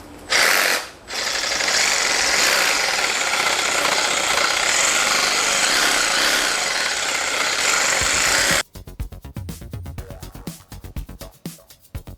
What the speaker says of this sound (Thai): เดี๋ยวเราลองดูตัวแปรงขัดนี้กันบ้างนะ